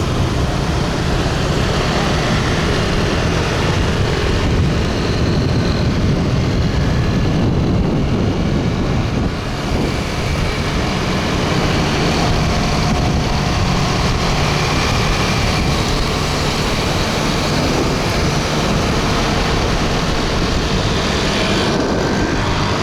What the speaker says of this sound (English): You see the flood of motorcycles and cars